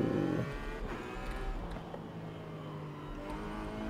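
Ferrari California T convertible engine in the racing game Forza Horizon 5, a fairly quiet steady engine hum with a brief louder burst at the start, then a smooth rising drone.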